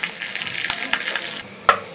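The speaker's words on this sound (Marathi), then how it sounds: "मोहरी, हिंग, कढीपत्ता घालायचा आणि चांगली ही फोडणी तडतडू द्यायची आपल्याला" Mustard seeds, asafoetida and curry leaves spluttering in hot oil for a chutney tempering, a close, steady sizzle broken by sharp crackling pops, with louder bursts near the end.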